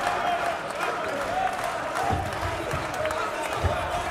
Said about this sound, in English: But the crowd is cheering for Ardo.